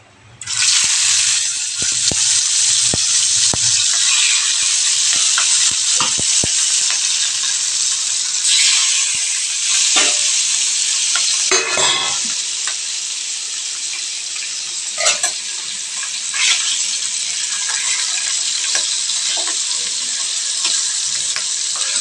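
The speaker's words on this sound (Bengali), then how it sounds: "কাঁচা মাছগুলোকে আমি প্রথমে একটু ভেজে নেব" Raw fish frying in a little oil for a Bengali mustard fish dish, a loud, steady, close sizzle that crackles throughout with occasional spatters and brief clatters of a utensil.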